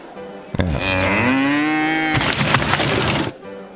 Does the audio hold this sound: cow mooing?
yes